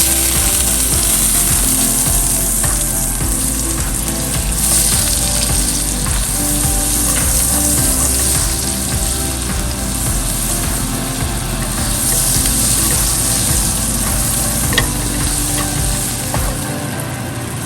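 Steady, loud sizzling and crackling from butter melting in a hot frying pan, continuous throughout with a faint clatter underneath.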